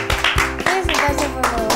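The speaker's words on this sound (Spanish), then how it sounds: "¡Un fuerte aplauso!" A live audience at a children's show claps for an arriving guest, with sharp hand claps landing in a loose rhythm, fairly close and loud, while music or voices carry on underneath.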